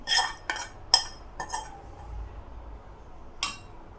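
A metal spoon stirring cooked banana flower curry in a pan, a few quick clinks and scrapes against the pan in short bursts separated by quiet pauses, close and moderately loud.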